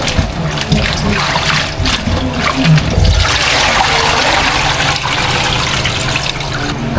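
Pork leg is washed a second time under a running tap, a loud continuous gush of splashing water with shifting spatter as the meat is turned, close by.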